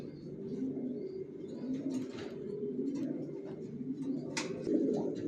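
Racer pigeons, a male and female pair, coo in low repeated throaty calls that run continuously near the microphone, with a few faint higher chirps and clicks over them and no talk.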